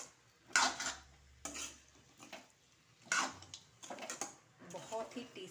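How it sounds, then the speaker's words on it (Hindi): A spoon stirring a sabudana mixture in a metal kadhai over a low flame, giving intermittent scraping and clinking bursts close by, with a quiet voice between them. "इन सभी को अच्छे से चला देंगे।"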